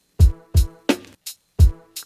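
Sample in Ableton triggered by a kick drum, heard as six short punchy hits with a booming low attack and bright tonal tail, in an uneven rhythmic pattern, loud and isolated with no talk.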